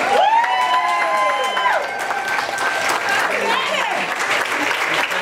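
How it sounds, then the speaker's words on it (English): Audience at a retirement celebration in Columbus, Georgia clapping and cheering steadily, with whoops and shouts mixed into the loud, dense applause; a voice talks over the crowd. "Now y'all need to get on your feet and cheer"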